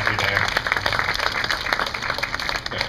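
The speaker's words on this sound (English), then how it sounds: "How about one more round of applause for these guys?" Audience applause and clapping fill a beluga show at the Vancouver Aquarium, outdoors in the sun. The clapping is steady and dense throughout, with a background voice under it.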